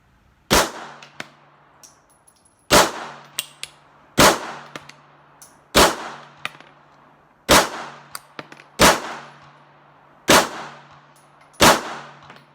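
A Beretta pistol, 380 Cheetah 85BB or 9mm 92FS, fires eight loud, evenly spaced shots, each a sharp crack with a ringing tail, and small metallic clinks fall between them.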